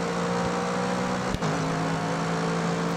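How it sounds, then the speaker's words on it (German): Steady engine drone of an Audi race car in GRID Autosport, a continuous loud roar with a brief dip and thump partway through. "Oh, der Audi kommt, der Audi kommt."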